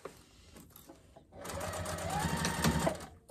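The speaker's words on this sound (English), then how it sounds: "So I'm going to go ahead and backstitch there" A sewing machine backstitches the seams of a fabric car trash can, its rapid stitching burst starting after a quiet second and running steadily close by, with a faint voice early on.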